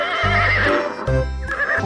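A brown horse neighs twice in quick succession, loud and close, each whinny a rising and falling cry with a short pause between, no talk over it.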